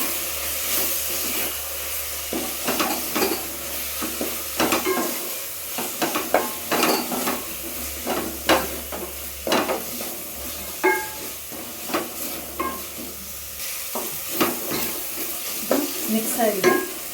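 Chilli powder, tomato rice powder and turmeric are stirred into a hot frying pan for tomato rice bath, a spoon scraping in repeated bursts over a steady sizzle and hiss, with occasional clinks against the pan.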